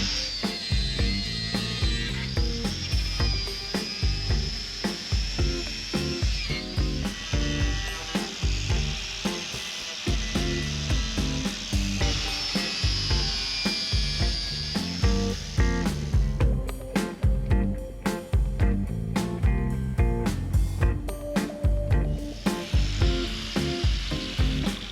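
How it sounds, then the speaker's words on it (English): Angle grinder fitted with a wire cup wheel scouring rust off a Jeep frame, a steady harsh whirring grind with rhythmic scraping pulses and pitch shifts, loud and continuous throughout with no talking. "the wire cup wheel on the angle grinder did plenty of damage out there"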